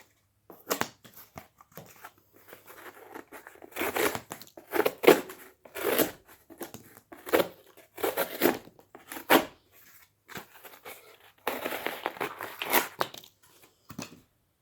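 A Cold Steel AD-15 folding knife cutting through material, giving a series of crisp tearing, crunching strokes in irregular bursts, fairly close and moderately loud with no talk.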